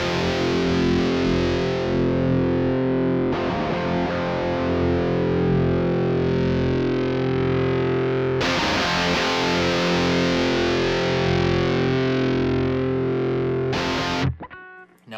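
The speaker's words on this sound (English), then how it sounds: "I'll go ahead and show you the full sweep of what that presence knob can do with this direct output." Distorted electric guitar played through the Legacy Drive preamp pedal's cab sim direct output, held chords ringing continuously while the presence knob is swept, with brief breaks in the strumming and a short clatter as it stops near the end.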